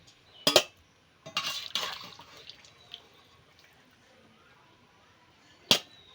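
A metal strainer lifting boiled ripe mangoes out of a pot, with two sharp metallic clinks at the start and end and soft wet scraping and dripping between.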